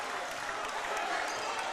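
A basketball crowd cheers and applauds a score at a boys' high school game, a dense, loud roar of clapping and shouting filling the gym without letup.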